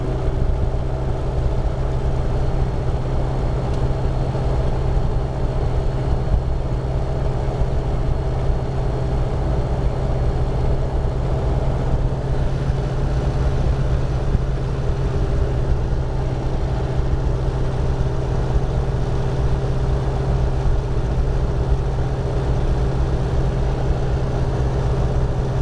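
The engine of a Sinus 912 motor glider runs continuously during an inspection, a steady close, even drone with a strong low hum that holds constant with only a subtle rise.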